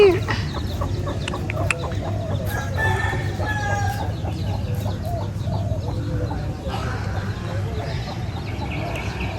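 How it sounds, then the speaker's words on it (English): A small hen clucks softly while her tiny chicks peep and cheep around her outdoors in Uluwatu, with a busy mix of short calls and faint crowing in the background. "I'm walking and there's this little hen here."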